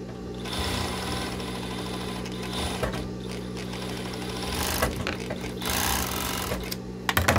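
An overlock sewing machine stitches fabric for a pair of white panties. The close, fast mechanical whir runs steadily, dips briefly in the middle and ends with a few clicks.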